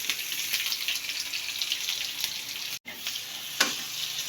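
Garlic and onion dropped into hot oil, frying with a steady close sizzle and occasional sharp pops, one brief dropout midway, no talk.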